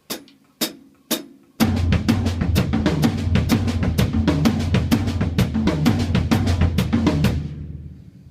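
Bass drum with low and high toms played as a drum exercise in a three-beat accent pattern of two strokes and a rest: three separate hits open, then a steady, dense run of close, loud strokes until the end.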